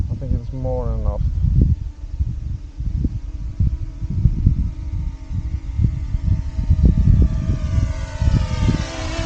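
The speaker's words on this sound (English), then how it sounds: "This is a pretty good drone." A DJI Mini 2 drone flies outdoors on a windy hike, its propellers holding a thin, rising whine throughout, mixed with gusty wind buffeting and rustling.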